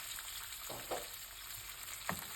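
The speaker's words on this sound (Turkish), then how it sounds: "Onu da şöyle bir kavurduktan sonra domateslerimizi ekleyeceğiz." Sun-dried tomatoes sauté in a pan with a soft, steady sizzle, fairly quiet, with a few light stirring scrapes and no speech.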